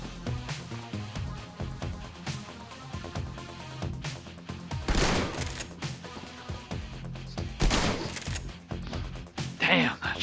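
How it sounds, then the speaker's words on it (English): Shotgun blasts in Shadowrun Returns sound as a few sharp, loud bangs, with strong ones near the middle and end, layered over steady game music and sparse voices. "Damn, that shotgun is nasty."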